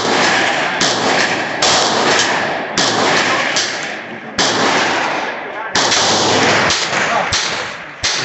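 A 7mm Remington Magnum fired from a Savage 110 bolt-action rifle at an outdoor range produces loud, close, booming shots. Several blasts come at irregular intervals, each followed by a decaying echo.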